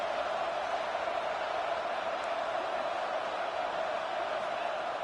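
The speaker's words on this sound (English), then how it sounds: "listen to this crowd noise. This stadium is vibrating." Dense, steady roar of a large football stadium crowd at an Oregon vs Texas game, a loud continuous wash of thousands of voices sustained without pause or swell throughout.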